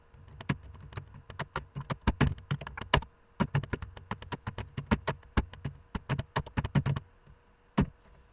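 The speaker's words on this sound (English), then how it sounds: "type something in" Fingers type on a computer keyboard, a close run of crisp key clicks in quick uneven bursts with short pauses, then a final single tap after a gap, with no talking.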